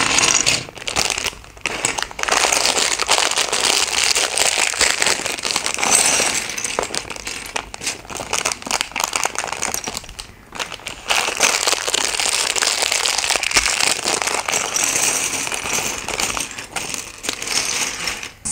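Plastic bags of LEGO Brick Sketches BB-8 (set 40431) pieces being torn open and handled, a loud, close, continuous crackling and crinkling with rattling parts and a few brief pauses.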